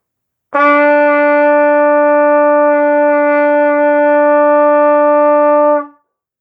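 A trumpet holds a steady long tone on E for about five seconds, clear and unwavering, then stops cleanly.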